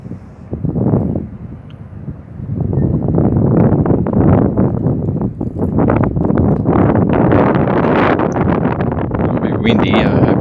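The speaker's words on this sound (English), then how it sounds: "Windy, I hope it's not blowing too much. It's a bit noisy after a while." Gusty wind buffets the microphone at a harbour by the seaway entrance where small boats are moored, a loud, rough rumble that swells and persists after a quieter opening, with someone talking.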